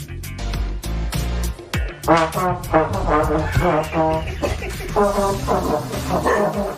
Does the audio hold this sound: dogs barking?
yes